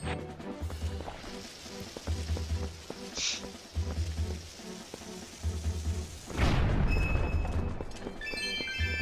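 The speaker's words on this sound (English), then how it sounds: "that was a nice explosion" An explosion in The Legend of Zelda: Twilight Princess bursts out once about two-thirds of the way through as a single loud blast that decays slowly. A pulsing, low, rhythmic game soundtrack plays before it.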